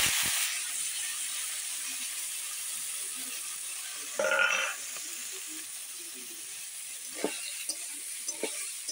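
Pumpkin pieces frying in hot oil with black cumin and green chili, a steady broadband sizzle throughout with a brief louder burst midway as pieces hit the pan, followed by a few small clinks of stirring.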